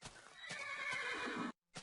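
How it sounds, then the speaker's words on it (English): A horse in the Minecraft Technic modpack game gives a loud, close whinny lasting about a second and a half, then a short silence and the start of another call, with no talk over it. "A horse. A black horse!"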